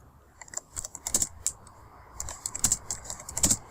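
Quick clusters of key clicks as text is typed on a computer keyboard, close and fairly quiet, with short pauses between bursts.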